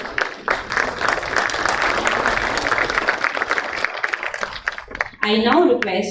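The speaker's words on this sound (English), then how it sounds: "A huge round of applause." Audience applause at an international conference on information security and digital forensics, a lively round of clapping from the hall, fairly close and sustained, with voices and a brief musical passage rising near the end.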